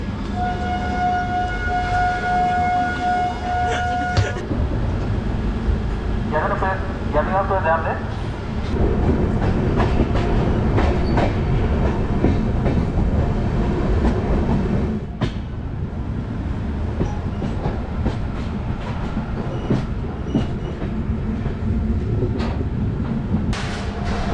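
Indian Railways train at Korba station, with loud continuous rumble of rail movement, a tonal siren-like horn near the start and steady station or carriage noise throughout; no clear speech in the clip.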